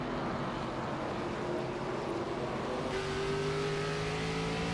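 Late model race car at Slinger Speedway heard from on board, a steady loud engine drone whose pitch dips slightly then climbs again as the driver lifts off the throttle, with no talk.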